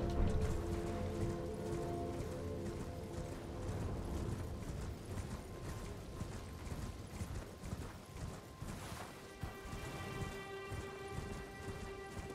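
Steady clip-clop of horse hooves in Elden Ring in a quick rhythm, mixed with game music and ambient rumble, continuing throughout.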